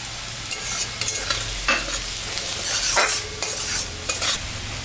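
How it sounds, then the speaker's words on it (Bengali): Onions fry in a pan with salt and turmeric added, giving a steady sizzle broken by repeated scraping stirs of a spatula, close and clear with no voices. "পেঁয়াজটা ভাজা ভাজা হয়ে গেছে এখন আমি স্বাদ মতন লবণ পরিমাণ মতন হলুদ দিয়ে দিলাম"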